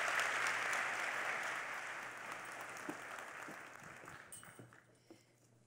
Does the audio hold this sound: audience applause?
yes